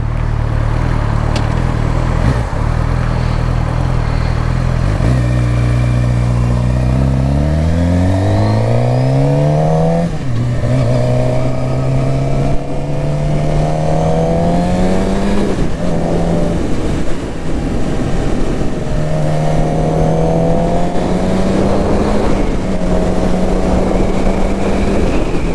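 Suzuki GSX-R600 sport bike engine on a road ride, loud and close, rising in pitch through the gears with revs climbing, brief drops at each shift, then steady cruising hum with wind noise.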